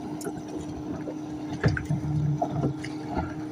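A small jon boat's outboard hums steadily as it motors by on a lake, with water splashing and sloshing against the hull close by and no voices.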